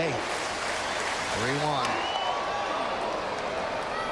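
Baseball stadium crowd chanting Let's Go Yankees, a broad steady roar of many distant voices beneath a play-by-play announcer talking over it.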